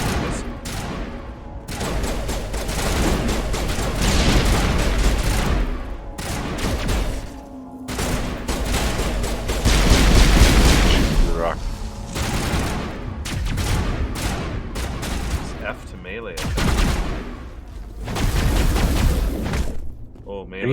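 Dense gunfire bursts and grenade blasts in Mass Effect Legendary Edition combat, loud and continuous with rolling booms and rapid shots throughout, and voices talking over the fighting.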